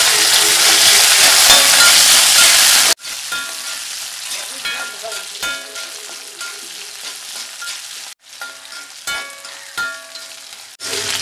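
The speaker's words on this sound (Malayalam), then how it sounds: "എന്നിട്ട് നന്നായിട്ട് ഒന്ന് ഇളക്കി മൂപ്പിച്ചെടുക്കാം." Ginger, garlic and green chilli sizzle loudly in hot oil while being stirred, a dense crackling hiss broken by brief pauses and scattered utensil scrapes, with no talking.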